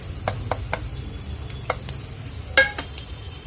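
Asafoetida and dry spices, including homemade black masala, turmeric and red chilli powder, hitting hot oil for a tempering, giving a soft close sizzle punctuated by several sharp clicks and taps of a spoon against the pan.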